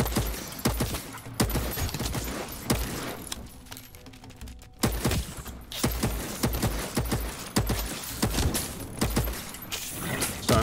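Rapid gunfire in the game Voidtrain, a fast, irregular string of loud sharp shots with brief pauses between bursts, close and continuous.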